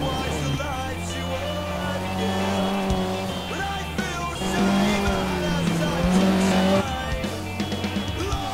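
Rally car in the Dirt 2 video game on a Croatian stage sliding too fast through a corner, a steady loud engine drone with gear-shift pitch sweeps and tyre skid, continuous throughout with a rougher surge midway.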